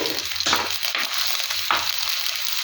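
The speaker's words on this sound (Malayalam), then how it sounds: "ഇഞ്ചിയും വെളുത്തുള്ളിയും ഒന്ന് അനക്കട്ടെ." Ginger and garlic fry in hot oil in a pan for a Kerala mackerel curry, a constant close sizzle broken by a few scraping stir strokes.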